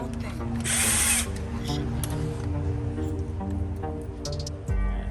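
An electric screwdriver drives bolts on a crash bar being fitted to a Kawasaki W800 motorcycle, with a loud whirring burst at first, then quieter motor hum and a short final burst, with a voice over it.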